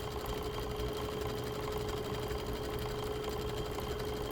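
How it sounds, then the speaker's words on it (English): A sewing machine hems a curved edge on knit fabric for a tie-up top, running as a steady, even mechanical hum throughout, moderately quiet and close, with no talking. "I'm just going to show me hemming around this curve and easing in this curve a little bit"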